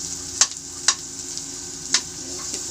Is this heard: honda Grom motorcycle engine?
no